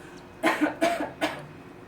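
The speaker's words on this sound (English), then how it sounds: "We're gonna cough or sneeze into our elbow." Three short, muffled coughs into an elbow come in a quick series, close by and slightly dampened, over a faint background hum.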